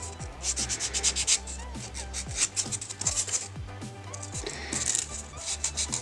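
Dip powder nails being filed and smoothed by hand with a nail file, steady rapid rasping strokes close up with brief pauses between passes, no talking.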